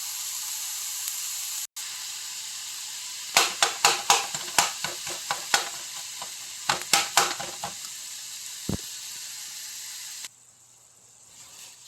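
Lean ground beef fries in a pan for bacon beef hash, with a constant soft sizzle and a run of sharp scraping clicks as it is stirred, then the sizzle drops away near the end.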